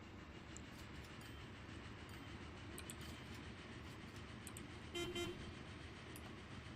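A game locomotive in Transport Fever runs steadily along an oil line, its rumble continuous throughout, with a brief horn toot near the end and faint clicks above.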